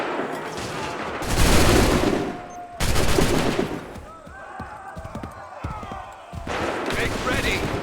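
Musket volleys ring out in Assassin's Creed III: two loud, dense bursts of massed gunfire, then scattered crackling shots and another heavy volley, with battlefield noise and voices in between.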